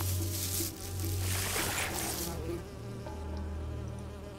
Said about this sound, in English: Oh no. Wasps.